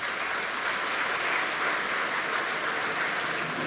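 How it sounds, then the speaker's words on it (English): Audience at the 2012 Champions of the Earth awards ceremony giving a sustained round of applause, dense and even, filling the room without talk. "So let us all please give a round of applause as a welcome to the 2012 Champions of the Earth."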